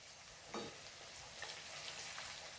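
Curry leaves dropped into hot oil while making a date and lemon pickle give a steady, moderately loud sizzle and crackle, with a brief sharper burst of spitting near the start and small pops throughout, no voices.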